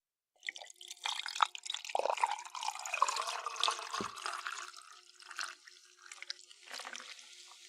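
Liquid pours in a steady trickling stream with scattered drips and splashes, close and fairly clear after a brief silent start, no voices.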